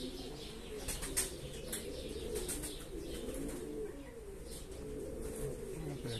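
Homing pigeons (zuritas and a thief pigeon) flying and cooing outdoors, with steady wing flapping and soft coos over a constant breezy background, fairly faint and distant.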